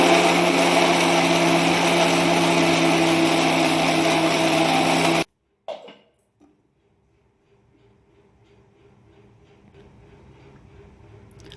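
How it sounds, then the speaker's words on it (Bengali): A mixer grinder whirs loudly and steadily as it coarsely grinds soaked sago in its jar, then cuts off abruptly, followed by a few faint clunks and near silence. "এবারে আমরা সাবুটা একটু গুঁড়ো করে নেব।"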